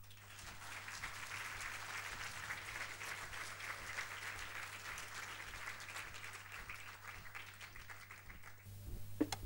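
An audience at a decoration ceremony gives long, even applause, a steady wash of clapping over a low constant hum that thins out near the end.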